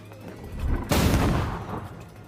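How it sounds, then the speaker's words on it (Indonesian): Gunfire in an action film scene: a single sharp, loud shot bursts out about a second in and rings off over a low rumbling background, with no speech. "Siobhan datang dan langsung menembak Rob"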